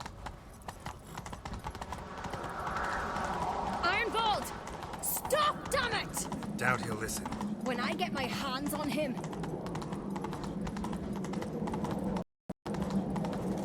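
Horse hooves clatter rhythmically in a Witcher 3 chase, a steady gallop under game music and ambience while characters talk over it, ending in a brief dropout.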